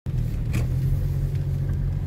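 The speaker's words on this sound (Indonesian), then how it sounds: "Ini agak rame memang kalau hujan kayak gini. Lagi macet." Low, steady engine rumble from cars stuck in a rainy traffic jam on a street near a market in Kudus, close and continuous with a faint hiss of rain over it.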